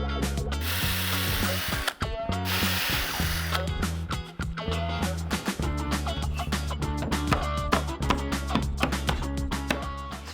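A power drill bores holes into a furniture panel, with repeated ratcheting, whirring bursts of the tool starting and stopping in close, loud succession.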